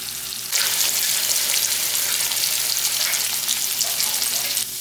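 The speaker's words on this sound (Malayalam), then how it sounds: "അപ്പോൾ ഇനി നമുക്കിതാ മീൻ വറക്കാം വെളിച്ചെണ്ണയിലാണ് വറക്കുന്നത്" Fish pieces fry in coconut oil, a loud dense crackling sizzle that starts abruptly and holds steady close by, then drops off sharply near the end.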